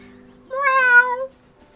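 A person imitates a cat's meow with one clear, drawn-out, rising-and-falling mew lasting under a second, close and fairly loud against near silence.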